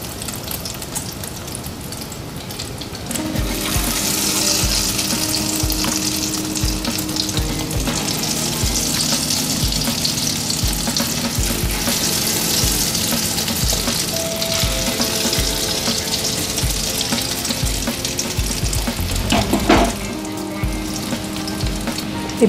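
Egg-battered cauliflower pieces deep frying in hot oil, a steady loud sizzle and bubbling that starts after a few quiet seconds and continues with small clinks and a brief louder burst near the end.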